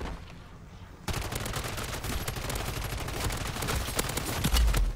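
Rapid gunfire from a weapon in Call of Duty MW3 Zombies, a sudden dense burst of shots that continues without a break, loud and close, with heavy thumps near the end.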